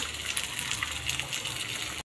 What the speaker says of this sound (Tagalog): Lalaglagan natin to ng liquid seasoning.